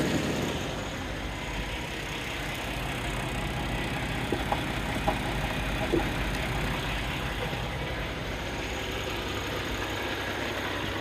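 A Kenworth T680 truck engine idles in a constant, deep, broadband rumble, close and steady, with a few faint clicks over the drone.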